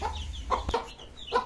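A tiger chicken rooster clucks while being given feed, with a few short, close clucking bursts over a low rumble in the background.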